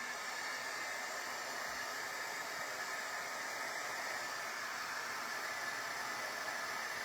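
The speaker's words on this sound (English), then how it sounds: "I'm going to grab my heat gun. So we're going to have just a little bit of noise here for a minute." An electric heat gun blows a steady, even rush of hot air over embossing powder, a constant hiss heard alone, fairly quiet but unbroken.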